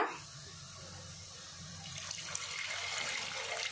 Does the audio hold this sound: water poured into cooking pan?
yes